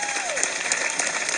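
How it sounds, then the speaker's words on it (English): An outdoor crowd at an Amtrak inaugural train event in Roanoke, Virginia claps steadily, a dense wash of applause heard briefly with a passing tone at the start. "Give Sherman a round of applause."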